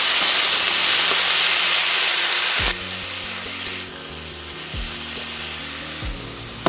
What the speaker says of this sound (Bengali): এবার আমি কিছুক্ষণের জন্য ভালো করে ভেজে নেব।